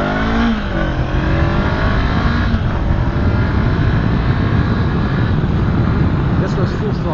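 A Honda CB500X motorcycle pulls hard at full throttle, its engine note rising and then holding a loud, steady roar under strong wind noise, with the rider talking over it.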